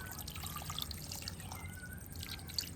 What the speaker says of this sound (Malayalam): ഇതിന് ശേഷം പാകത്തിനുള്ള വെള്ളം ഒഴിച്ചു കൊടുക്കുക